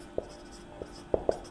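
Pen or chalk strokes writing out a math solution on a set-theory problem, a few short separate scratches spaced irregularly, close and quiet with no talk.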